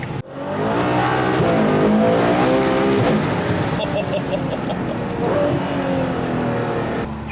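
A Ferrari 812 GTS engine roars loudly and close, revving with rising and falling pitch as the car drives, strong and continuous throughout.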